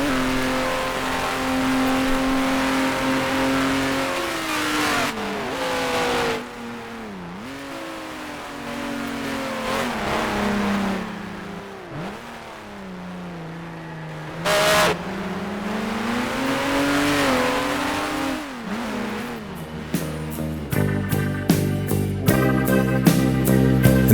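A 1971 Porsche 917 sports car races in the Grand Prix Legends sim, its engine roaring loud and close with rising and falling revs through gear changes, then a rapid burst of sharp clicks and revs toward the end.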